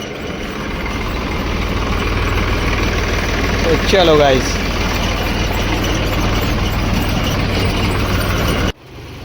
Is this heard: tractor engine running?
yes